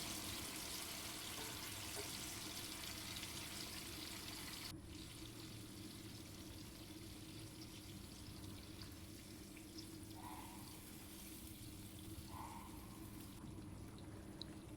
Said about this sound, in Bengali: এখানে আমি 2 কাপের মতো গরম পানি অ্যাড করেছি।